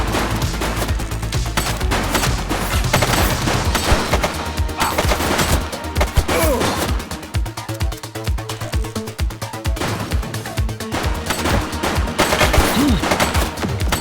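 Rapid bursts of automatic gunfire fill a shootout in the police video game The Precinct, loud and nearly continuous for the whole stretch, with brief pauses, heavy low booms and a faint voice now and then.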